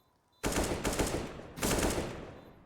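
Gunfire in the video game CS:GO during a competitive match on the Nuke map, two loud close bursts of rapid shots separated by a short pause, with no talk over them.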